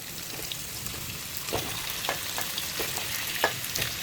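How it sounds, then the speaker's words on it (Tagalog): Vegetables for chicken curry sautéing in hot cooking oil: a steady close sizzle with crackling pops, plus occasional sharp clicks and scrapes as they are stirred in the pan. "igisa muna natin saglit yung ating mga gulay"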